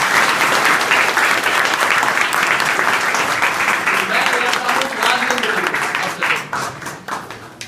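An audience bursts into loud, dense applause at an MPPSC exam toppers' strategy session, with many hands clapping steadily for several seconds before thinning out toward the end.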